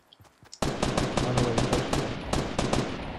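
Gunfire in a Fortnite battle royale match: after a few faint taps, a loud close burst of rapid shots breaks out and continues in quick bursts with short pauses.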